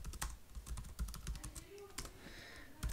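Quick bursts of typing on a computer keyboard as a terminal command is entered, rapid close clicks and key taps with a low hum underneath.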